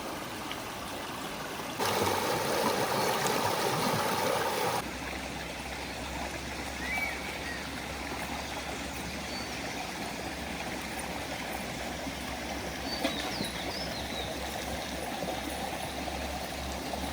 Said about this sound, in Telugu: కొండవాగు గలగలలు మనసుకి చాలా ప్రశాంతంగా